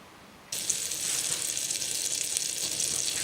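Salted butter hits a hot pan and breaks into a bright, steady sizzle that starts suddenly after a quiet moment and continues evenly at close range.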